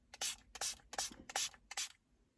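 Spray bottle misting liquid over a screen protector film being fitted on a Land Rover Defender 110, five quick, evenly spaced hissing squirts up close.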